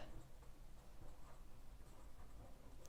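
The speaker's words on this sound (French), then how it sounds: "je vais vous l'écrire" Writing on a board sounds as faint, continuous scratchy strokes during a math lesson, quiet against a steady background hum, with no speech.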